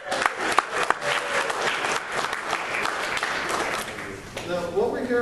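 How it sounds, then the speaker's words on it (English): An audience at a gaming convention panel gives sustained applause, loud and close, with sharp individual claps standing out. A voice begins speaking as it fades near the end. "So please give yourselves a round of applause."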